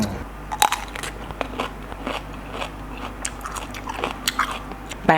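Someone bites into crispy Thai fried pork belly up close, making repeated sharp crunches and crackles between quieter chewing.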